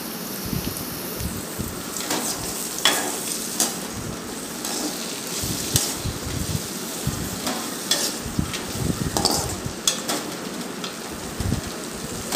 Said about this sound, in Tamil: ஒரு டேபிள் ஸ்பூன் வந்து ஆயில் ஊற்றிட்டு நம்ம கட் பண்ணி வச்சுருக்கிற வெங்காயம், வரமிளகாய், புளி, கருவேப்பிலை, கொத்தமல்லியெலாம் போட்டு வணக்கிக்கலாம்.